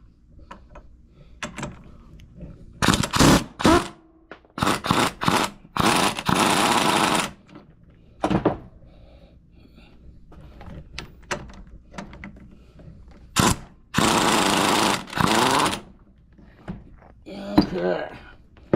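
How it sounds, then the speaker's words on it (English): Impact tool zapping out the bolts holding a taper-fit plate, in loud bursts of a second or two repeated several times, separated by quieter handling clatter. "let's go ahead and zap these bolts out"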